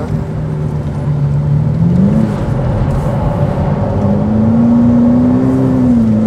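Ferrari F8 Tributo engine held on the throttle during a drift, a loud sustained roar that dips and then climbs in pitch as the revs rise, close up with no talk.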